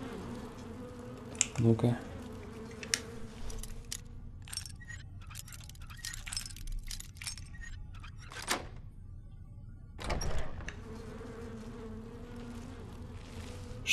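Insects buzz steadily through a quiet room in the game Skyrim Dragonborn, a low droning hum with a few sharp clicks and thumps, as a voice speaks briefly.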